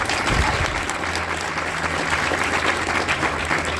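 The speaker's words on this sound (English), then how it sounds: "A round of applause to the team squad over there." An audience at a Marine battalion change of command ceremony gives a loud, continuous round of applause, dense clapping sustained evenly from start to finish.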